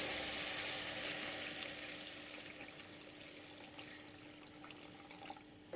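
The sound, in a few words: boiled water poured into boiling vinegar for rambutan pickle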